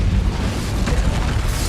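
The Incendio fire spell cast during a duel in Hogwarts Legacy, a loud, dense whooshing burst of flame that roars steadily for under two seconds, close and with no talking over it.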